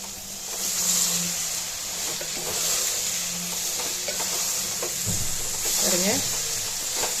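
Soya chunks stir-fried in oil in a pan for veg biryani, a steady loud sizzle with scraping spoon strokes and clinks, and brief voice sounds in the background.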